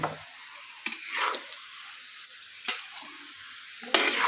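Mushrooms deep-frying in oil for Lao jaew bong, a close, continuous soft sizzle broken by several sharp stirring scrapes and clatters at irregular intervals.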